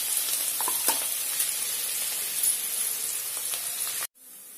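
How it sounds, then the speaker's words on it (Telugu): Crushed garlic frying in hot oil for an onion pickle, a steady loud sizzling hiss with small crackles and pops, cutting off abruptly near the end. "దీంట్లోకి ఇప్పుడు మనము దంచి పెట్టుకున్న వెల్లుల్లిపాయలండి, అది వేసుకోవాలి. అది వేసుకొని మంచిగా దాన్ని వేపుకోవాలి."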